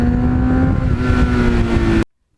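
A 35-year-old green Kawasaki Ninja motorcycle engine drones loud and close with a steady revving tone for about two seconds, then stops abruptly.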